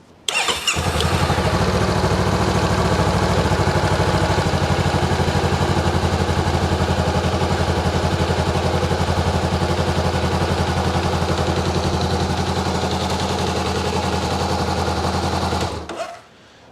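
A Honda CB500F motorcycle starts and idles close by with a loud, steady, even engine rumble that holds for about fifteen seconds before cutting off abruptly.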